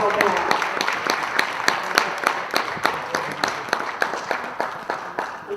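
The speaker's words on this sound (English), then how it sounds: "Please join me in giving all of our community partners who help us achieve our mission one big round of applause." A ceremony audience claps together, a steady patter of handclaps with a few distinct louder strikes, fading slightly toward the end.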